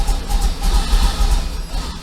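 A Corvette engine idling rough after plug changes, a loud, low, uneven chuffing that pulses steadily like a steam engine, close to the microphone with no talk.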